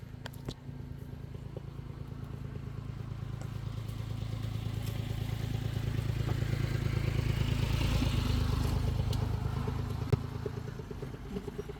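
A motorcycle engine runs steadily close by, a low rumbling drone with rattling clatter that slowly swells louder toward the middle and then eases off, with no talk over it.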